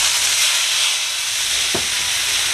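A hot pan hisses loudly with steam while cleaning an oven, a steady bright sizzle filling the clip, with a brief soft thump partway through.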